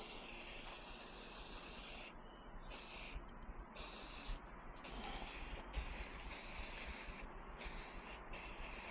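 A can of Rust-Oleum Specialty Color Shift spray paint hisses out several close, sustained bursts, separated by brief pauses as the nozzle is released and pressed again.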